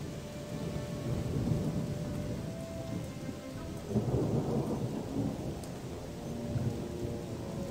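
Steady rain pours in the video game Odyssee, with a dense hiss of falling water and rolling thunder that swells into a louder rumble midway, all continuous and without talk.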